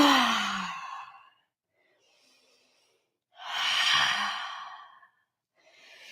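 Two long, audible exhales through the mouth during a yoga session, each a breathy sigh lasting a second or more, separated by silence, close and soft with a third breath beginning at the end.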